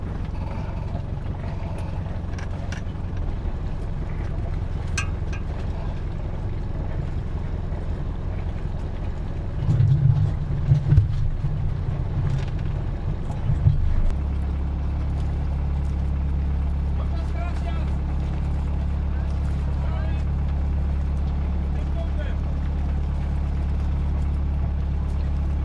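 A boat's inboard engine is put in gear and the vessel pulls out to the left while at anchor, a steady low rumble that surges louder for a few seconds midway, with voices talking over it.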